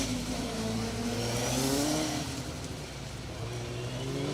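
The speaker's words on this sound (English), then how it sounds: "There is that glorious, and very sideways, I'm pleased to say, Ford Anglia of John and Laura Coolidge." A Ford Anglia rally car drives very sideways on a stage rally at Brands Hatch, its engine a steady, fairly loud drone with shifting tones and no talk over it.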